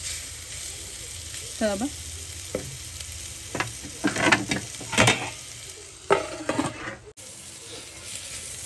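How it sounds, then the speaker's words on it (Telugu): Bommidayi fish fry and crackle in a clay pot, making a continuous sizzle broken by several clattering stirs and scrapes, while someone speaks briefly over the cooking. "ఒక 2-3 నిమిషాలు అయితే వేపుకుంటా ఆ స్మెల్ పోయేదాకా"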